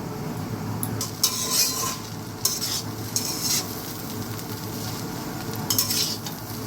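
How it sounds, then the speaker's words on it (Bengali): Chow mein being stir-fried with fried chicken, egg and shrimp, heard as a steady close sizzle under repeated scraping and tossing of a utensil in the pan, with a few sharp metal clatters. "এবার আমি ভাজা চিকেন, ডিম, চিংড়ি মাছ সব দিয়ে দিচ্ছি।"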